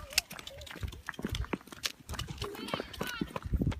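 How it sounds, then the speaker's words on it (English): A horse and a goat run loose through a residential neighborhood, hooves clip-clopping in uneven bursts on pavement, close by and moderately loud, under frequent talking and calling from people nearby. "There was a horse and a goat running around the neighborhood."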